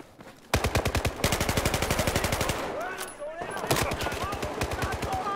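Battlefield 4 team deathmatch gunfire: loud, rapid automatic bursts rattle steadily, break briefly, then resume with more sustained firing and faint in-game effects beneath.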